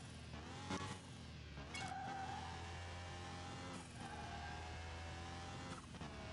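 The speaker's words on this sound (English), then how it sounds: "Okay, so let's see how bad this car is at driving." A turbocharged car driving in the Car Mechanic Simulator 2021 video game: a faint, steady engine drone with slowly shifting pitch and occasional tire-squeal-like tones, with no talk.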